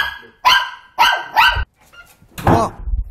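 A dog barks close by, three or four sharp barks in uneven bursts with short pauses between them.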